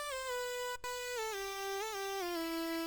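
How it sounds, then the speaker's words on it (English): A buzzy, saw-like synth lead meant to stack on a rage trap melody holds a few long gliding notes with slight pitch bends and a brief break, loud, close and unaccompanied by voices. "we have one more lead."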